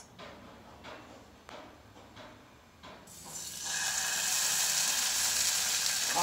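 Uttapam batter hits an oiled pan and breaks into a loud, steady sizzle after a few quieter clicks and clatters, with no one speaking.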